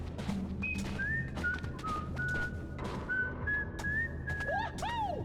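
A person whistles a wandering tune with sustained notes and a few quick upward slides, moderately close and fairly quiet, over a low steady background from a Donkey Kong Bananza gameplay session, with no talk.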